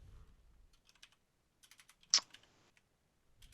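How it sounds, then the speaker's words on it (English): Soft computer keyboard typing is heard in short, scattered bursts of faint clicks, with one sharper louder tap and quiet gaps in between. "Sorry, I was reading the thing that Alan was typing."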